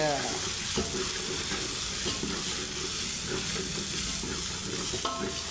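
Chili powder, onion-garlic chutney and spices roasting in a pan for a village-style black-eyed pea usal, a steady close sizzle with repeated scraping stirs throughout, no talk.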